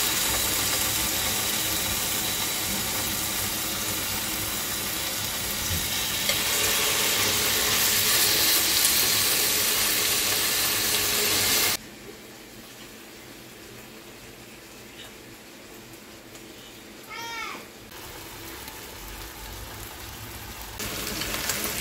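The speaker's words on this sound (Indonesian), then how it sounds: "Aku goreng dulu ayamnya ya teman-teman," Chicken pieces frying in hot oil, half-cooked as a base for curry, give a loud, steady broadband sizzle for about twelve seconds, then drop to a much quieter bubbling crackle with a few clinks.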